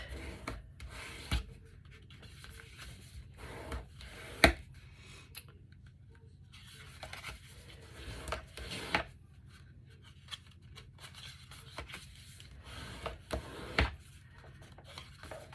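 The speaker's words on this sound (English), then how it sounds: "page by page and just burnish the pages down. Get them nice and flattened." Paper pages of a Christmas mini album are burnished flat one by one, giving soft, close rubbing and scraping strokes in irregular bursts with occasional light taps, quiet and with no talk.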